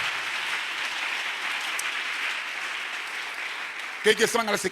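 A church congregation cheers and applauds for about four seconds in a broad, steady wash of sound, then a voice cuts in at the end.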